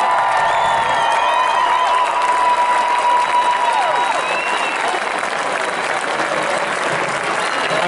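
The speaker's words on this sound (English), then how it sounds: "please get on your feet and make some noise" A stadium crowd at a Montana Grizzlies home opener applauds and cheers a returning former football player, a dense continuous roar of clapping and shouts, with voices mixed in.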